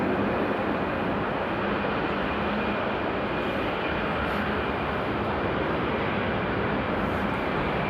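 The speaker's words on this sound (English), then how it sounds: "we're gonna see this Dreamliner taking off from runway 18 left" A Boeing Dreamliner takes off from runway 18 left at Amsterdam airport, a loud, broad, steady engine roar held throughout at close-to-middle distance, with no voices.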